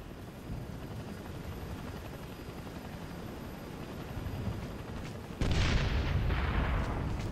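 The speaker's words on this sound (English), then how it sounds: "Helo, 250 meters east." Helicopter from the video game Operation Flashpoint Red River, a steady rotor and engine rumble that swells abruptly louder and closer near the end, with no talking.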